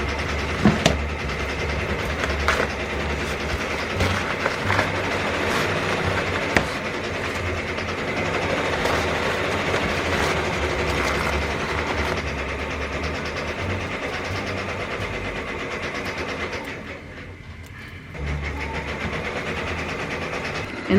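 Multi-needle embroidery machine stitching step-stitch lettering, a loud continuous mechanical rattle with rapid rhythmic clatter, pausing briefly near the end before running on.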